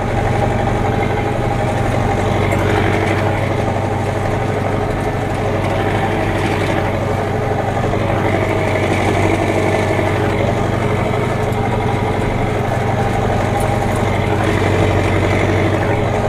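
Massey Ferguson 5445 tractor engine laboring steadily uphill on rough grassland while rowing up silage, a loud, close, continuous diesel drone with no speech.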